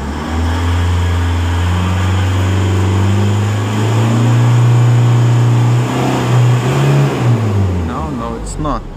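The engine of a Holden Colorado ute with fault U2104-00 revs steadily as it accelerates, a loud, close droning hum whose pitch rises gradually over nine seconds, with a voice speaking over it briefly.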